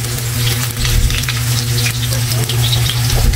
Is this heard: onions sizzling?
yes